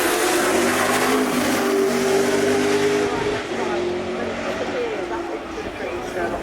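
V8 race car at the Goodwood Festival of Speed, engine roaring steadily and loud throughout with a sustained high whine, a commentator's voice running over it.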